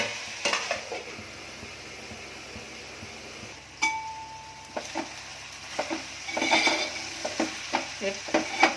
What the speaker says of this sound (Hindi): 5 मिनट तक प्याज में उसको भूनती रही।